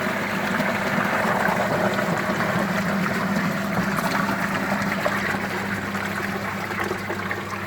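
Water pours steadily back into a garden pond during a UV sterilizer installation, a continuous loud rushing and trickling with an underlying pump hum and no talk.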